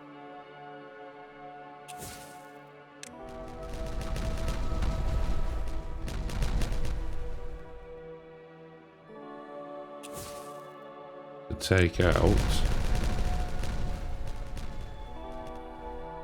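Explosions in the Timberborn colony-building game thunder out as deep, broadband blasts, a sustained rumbling burst midway and a sharp, loud crack near the end, with a voice briefly heard and game music beneath.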